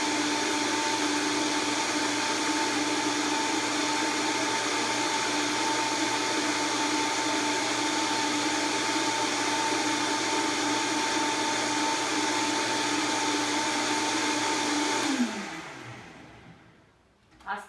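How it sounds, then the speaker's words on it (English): A high-speed blender whirs steadily while blending bulletproof coffee, a loud even motor hum that holds for about fifteen seconds before spinning down abruptly to quiet. "There's a reason why we're using this high-speed blender today, and it's because it emulsifies the ingredients."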